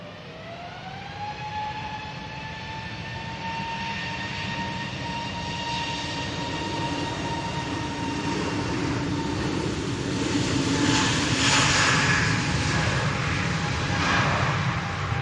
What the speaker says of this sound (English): Next departure is this Easyjet. This one's going to Belfast using a 320neo.